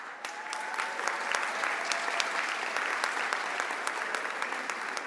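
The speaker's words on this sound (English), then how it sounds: "a round of applause again for him, please" Steady applause from a large crowd at a university graduation ceremony, dense continuous clapping held at an even level throughout.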